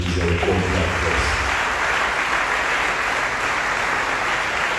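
A church congregation at a Sunday worship service applauds with dense, sustained clapping, with a short burst of voice or music underneath at the start.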